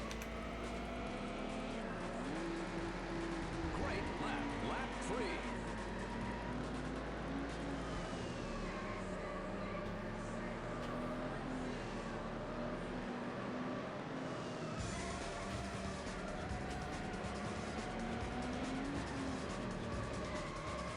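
Race car engines in the video game Need for Speed: High Stakes drone continuously with shifting pitch as cars accelerate and jostle, a dense, loud mix of revving and road noise throughout.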